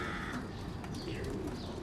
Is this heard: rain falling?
no